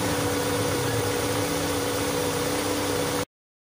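Carburetor car engine held at raised RPM, a steady loud droning hum with strong low tones that runs evenly for about three seconds, then cuts off abruptly.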